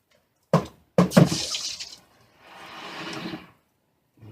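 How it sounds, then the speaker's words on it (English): A hot cast silver piece drops into water to quench, giving two sharp splashing hits followed by a fizzing hiss, then a softer sizzling bubble that fades, close and without talk. "Drop that in the water."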